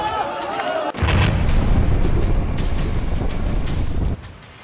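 Bombing in Gaza brings down a multi-storey building: a loud, sudden roar rises and rumbles heavily for about three seconds before cutting back to quieter background noise.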